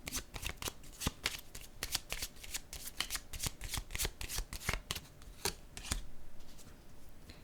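Playing cards shuffled and laid down on a surface, a rapid run of crisp, close snaps and riffles in irregular bursts, fairly quiet with no talk.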